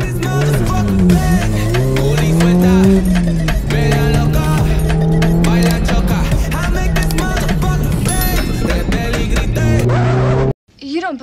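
A tuned Mazda Miata drives on a race track, its engine droning and rising and falling through the gears under near, loud in-car noise, with a pitch climb late before an abrupt cut; talk runs over it.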